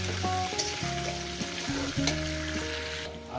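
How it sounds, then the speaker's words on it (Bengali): Taro potatoes with salt fry in a pan with a steady, close sizzle, joined by the occasional stir and soft clatter, while quiet music plays underneath. "গাটি কচুর আলুটা দিয়ে আমি এখানে ভেজে নেব"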